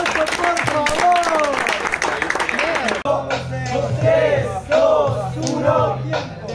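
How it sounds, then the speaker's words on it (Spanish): Crowd at a freestyle rap battle tournament in Spanish, a rapper's voice fading out as clapping, whoops and cheers swell, loud and close, with shouting continuing over the applause. "un aplauso, por favor"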